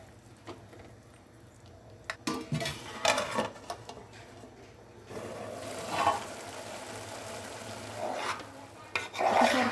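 A spoon stirring soaked rice in a pot of hot water while making soy-chunk pulao, scraping and swishing in uneven strokes close by, with a steady low hum underneath.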